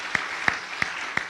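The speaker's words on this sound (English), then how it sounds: "let's give him a round of applause for the legacy he has shared." An audience gives a round of applause at a bill signing for New Jersey's Fair Chance in Housing Act: steady indoor clapping with a few sharper, louder claps standing out at regular intervals.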